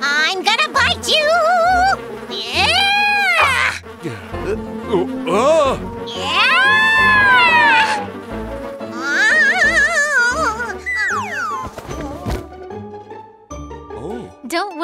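A cartoon mosquito buzzes in a children's animated song, its whining drone sweeping up and down in pitch in repeated swoops, loud and close, over music and sung or spoken voices.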